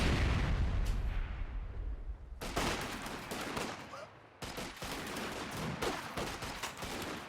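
Mortar fire in the strategy game Company of Heroes 2 during a 1v1 match: heavy booming blasts land one after another, each a sharp loud impact with a rumbling tail, over a dense battlefield din.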